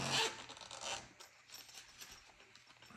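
Zipper pulled on the small nylon pouch of a WE Knives Banter knife, a quick close rasp at the start followed by a few shorter, quieter zip strokes and light handling.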